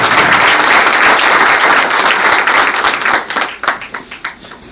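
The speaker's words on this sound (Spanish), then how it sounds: "un aplauso para nuestro querido doctor Ignacio Méndez Ramírez" An audience gives loud, full applause at a tribute event honoring Dr. Ignacio Méndez Ramírez, dense clapping that thins into scattered claps near the end.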